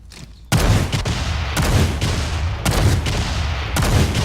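Heavy single shots from a gun in the video game Payday 2, five or six loud booming blasts spaced about half a second to a second apart, each with a long rumbling tail and no talking.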